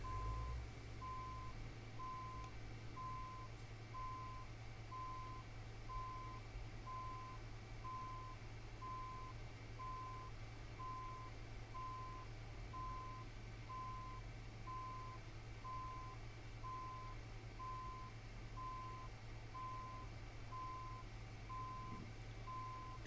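Steady repeating reversing beeps from a truck backing up in American Truck Simulator, evenly spaced and continuous over a constant low engine drone, no talking.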